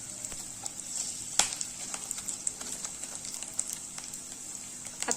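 Food for dry date and coconut laddu frying in a pan, a quiet steady sizzle of hot oil with small crackles and pops, close by and without talking.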